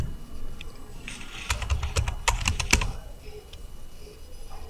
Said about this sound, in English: Now here you need to type the word you want to search